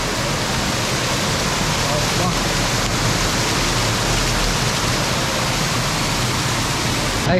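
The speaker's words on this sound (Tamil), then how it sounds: "இங்கே பாருங்களேன் எவ்வளோ ஃபோர்ஸாக தண்ணி வருதுன்னு." Water from a dam on the Palar river rushes out with force as a dense, continuous roar of noise, loud and unbroken from start to finish.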